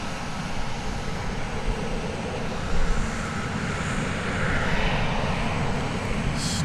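An airplane taking off at DFW Airport, a steady, broad jet-engine roar that holds loud and constant throughout, heard from the spotting area with no talk.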